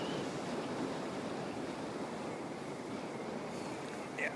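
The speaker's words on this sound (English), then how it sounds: "the wind is taking my camera now, so I'm going to have to tighten up a little bit" Strong wind at an airport buffets a camera, producing a constant loud roaring rush of wind noise that barely varies over a few seconds.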